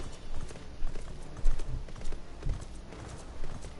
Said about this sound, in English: you can actually hear the armor as you gallop